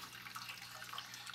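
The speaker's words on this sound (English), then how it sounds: "You can see the water comes here, drop here, and then it goes down here to the bucket again." Water trickling and dripping back into a bucket in a simple hydroponic PVC rail system, a steady close splashing flow with small irregular drops throughout, no voices.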